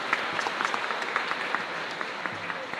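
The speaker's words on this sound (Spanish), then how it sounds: "un fuerte aplauso para ustedes" A church congregation at a live Mass for the Solemnity of the Immaculate Conception applauds, with steady, dense clapping throughout and a brief voice near the end.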